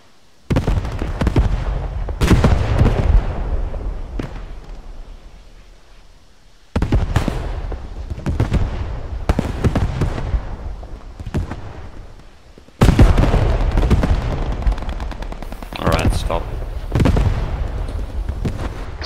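Panzerwerfer 42 rocket barrage in Squad 44, launched in three separate loud salvos, each a quick ripple of sharp whooshing blasts that trails off, with short lulls in between.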